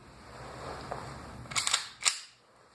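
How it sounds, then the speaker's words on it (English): A magazine loaded with 18 BBs snapping into the mag well of a BB gun, heard as a few sharp plastic-metal clicks and a final firm click over quiet background. "I'm now putting the magazine into the mag well of the firearm."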